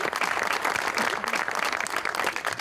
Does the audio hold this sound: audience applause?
yes